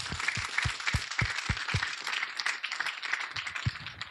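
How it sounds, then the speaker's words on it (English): Applause at a groundbreaking ceremony for a county office building: a small crowd clapping, with distinct low claps standing out in an uneven rhythm early on, thinning briefly before picking up again. "If we could give them a round of applause"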